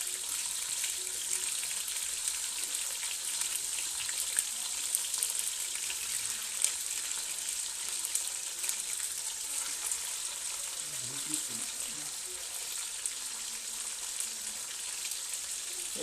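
Spicy lamb chops sizzle steadily in a hot pan, a continuous bright hiss of frying fat with faint crackles, close and even in level, with no talking.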